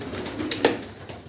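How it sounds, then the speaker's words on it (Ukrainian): A young pigeon coos softly in a loft, a few low murmuring coos rising briefly against a quiet background hum. "Молодий голубочок."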